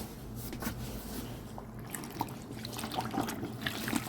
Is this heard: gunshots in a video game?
no